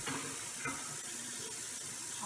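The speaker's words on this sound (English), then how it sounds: "I'm going to drain my detergent water and rinse out the sink while that's running" Water runs steadily into a sink as soapy detergent water drains and the basin is rinsed, a continuous close rushing and splashing with no voices.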